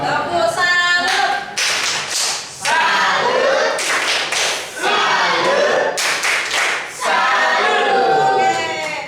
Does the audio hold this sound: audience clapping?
yes